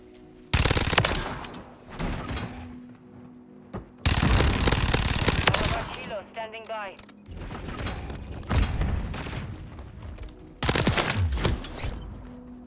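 Suppressed Fennec SMG from a shooter game with a Quartermaster Suppressor fitting, firing several dense bursts of rapid automatic fire separated by short pauses, loud and close, with a player talking between and over the shots.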